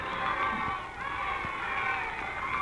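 Crowd noise from a radio drama, a continuous murmur of many voices blending into a steady din, with faint shouts rising out of it and no single voice standing out.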